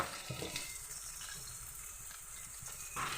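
Chopped onion fries with potatoes in a pan, giving a soft, continuous hiss and crackle at low level, with a few faint scraping touches.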